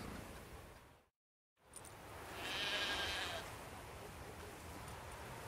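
A sheep bleats once, fairly close, in The Witcher 3 over a steady outdoor game ambience, after a brief moment of total silence.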